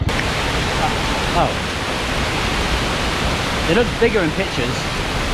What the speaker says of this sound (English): today I'm going to another waterfall